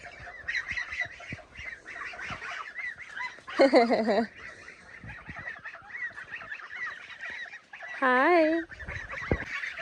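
Domestic geese inside a goose house on a farm in Russia, giving a few loud, close, nasal honks over a constant background of chattering fowl, with a brief spoken greeting.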